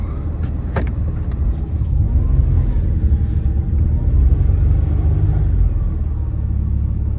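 A 1987 Pontiac Bonneville engine runs with a deep, steady rumble as a wheel spins, the low drone swelling louder midway, with a brief sharp click near the start.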